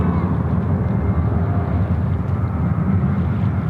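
An American Airlines airliner taxiing out at Sydney Airport, a loud, steady low engine rumble with wind buffeting the microphone and a faint voice mixed underneath.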